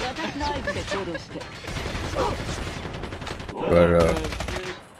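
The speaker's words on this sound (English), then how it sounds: "People are shooting like crazy over here." Dense bursts of rapid gunfire in Call of Duty Mobile, continuous automatic shooting that peaks in a louder volley near the end, with a player talking over it.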